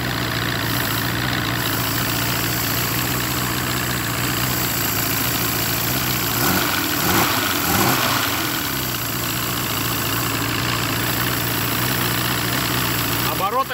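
A 1999 Force 120 outboard motor on a Bayliner boat idles with its mufflers removed, a steady, loud, unmuffled drone with a slightly high idle, continuous throughout with a brief low rumble midway.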